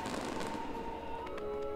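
Fireworks at the Fukuroi Enshu festival in Shizuoka, launched to music over a summer night crowd, crackle and pop in dense distant bursts above a steady musical tone.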